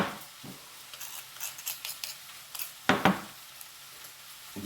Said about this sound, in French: vous devez entendre mes épinards, ils sont bien déjà pas mal diminués là